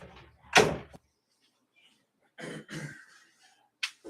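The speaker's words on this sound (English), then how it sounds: "Let me close the door here." Someone shuts a room door during a live stream, giving one loud close knock followed by softer handling and rustling sounds, then a short sharp click near the end, all in a quiet room with no talking.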